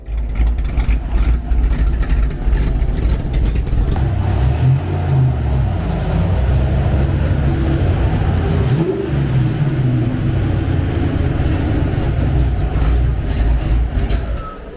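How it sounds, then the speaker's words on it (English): A car engine that is not running right runs loudly and continuously, its low rumble rising and falling as it revs, with no voices over it. "it seems like the car is still not running quite right, especially when those fans are kicking on"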